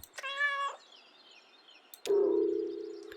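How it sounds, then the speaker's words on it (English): A white cat in the video game Kentucky Route Zero gives two close, clear meows, the first short and high, the second longer and lower, with no talk. "Is that a white cat?"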